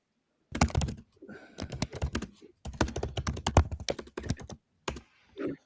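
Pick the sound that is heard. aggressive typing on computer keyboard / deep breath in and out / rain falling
aggressive typing on computer keyboard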